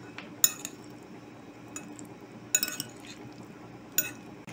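Utensils mix a broccoli, cauliflower, carrot and onion salad in a bowl, giving three brief bursts of metallic clinking and scraping over a quiet background, close by and fairly soft, with no voices.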